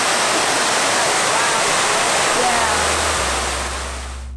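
A water fountain at EPCOT rushes in a steady, loud wash of splashing water that fills the space, with the sound easing slightly toward the end.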